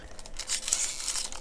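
A Pokemon Chilling Reign booster pack is torn open, a brief close crinkly rip of foil wrapper, quiet and without speech.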